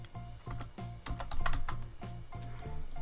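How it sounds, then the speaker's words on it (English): Typing on a computer keyboard, a quick run of close, crisp key clicks and taps in an uneven rhythm, with no voices over it. "so type in Christmas"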